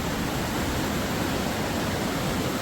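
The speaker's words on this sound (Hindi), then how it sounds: "ये जो नदी है, ये काली नदी है, ये बॉर्डर है इंडिया और नेपाल का।" Kali river at the India–Nepal border rushing steadily, a dense, unbroken roar of flowing water heard close and loud throughout.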